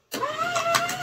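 A paper shredder motor starts up abruptly and runs steadily with a rising whine and sustained mechanical hum, loud and close, no talking.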